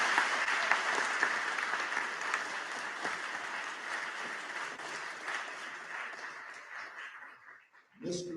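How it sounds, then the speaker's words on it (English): Sustained applause from a large crowd, steady then gradually fading, with a brief burst of a voice at the very end. "Round of applause for Ernie and his family."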